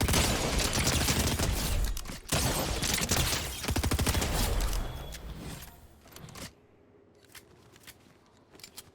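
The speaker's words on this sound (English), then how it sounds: "I don't know where the person was that was shooting me" Rapid automatic gunfire in Fortnite Zero Build, loud dense bursts of shots for about six seconds before dropping to sparse, fainter pops.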